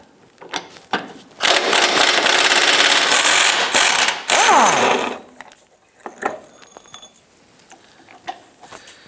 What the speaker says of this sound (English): Go ahead and loosen and remove the front passenger side 18mm bolt.